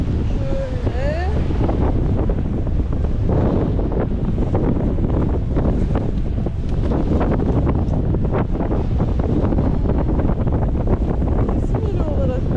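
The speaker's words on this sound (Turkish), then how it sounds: "şu anda ters rüzgar olduğu için burası çok dalgalı" Strong headwind buffets the microphone at sea off Bozcaada while choppy waves slap and splash around a moving boat, a loud, continuous roar with bursts of spray throughout.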